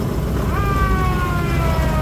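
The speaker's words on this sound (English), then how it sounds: "It turns out that's the switch to the siren. Siren works way over here." A siren on a 1941 Dodge WC-6 military truck winds up partway through and holds a steady wail over loud, continuous background rumble.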